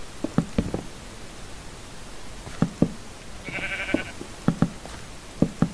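Sheep bleat in short, scattered calls, several in a quick cluster at the start and more later, fairly close against a soft hiss of background noise, with no talking.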